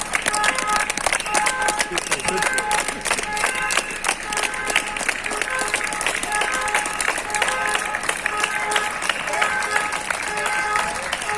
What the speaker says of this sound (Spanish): sí que els aplaudiments estan molt bé